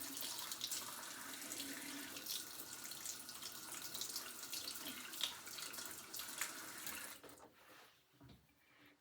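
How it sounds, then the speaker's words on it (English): Running tap water rinsing a lip scrub brush at a sink, a steady close hiss of flowing water for about seven seconds before the faucet shuts off and a few drips and handling sounds follow. "So I'm just gonna wash this off"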